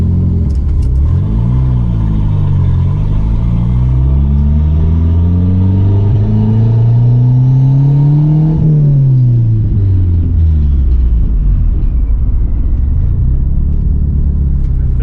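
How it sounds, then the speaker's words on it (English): A turbocharged Mitsubishi Conquest drives around the block, its engine droning loud and close as revs climb through rising sweeps, peak, then drop away before building again. "So I'm gonna take it on a quick rip around the block, see what happens."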